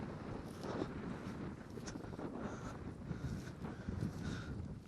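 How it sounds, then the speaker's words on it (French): Steady wind buffeting the microphone with low rumbling gusts throughout, loud and continuous, with no voices. "C'est pas possible, le vent."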